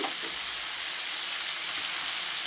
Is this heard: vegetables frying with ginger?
yes